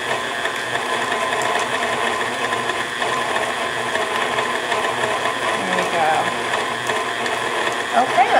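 A stand mixer whirs at a slow speed as it blends sweet potatoes for a spicy casserole, giving a steady mechanical hum with faint rattling, heard close under a person talking.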